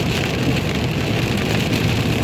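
Steady rain drums on a vehicle, a dense, loud, unbroken patter of drops filling the space with no pauses or talking.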